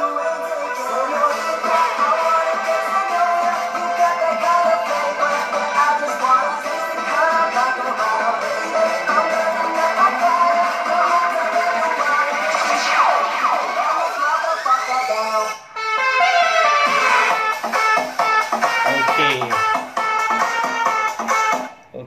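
Music streamed from a phone over Bluetooth plays loudly through a modified Bluetooth speaker, a dense, continuous mix with sweeping tones, one brief dropout and no talking.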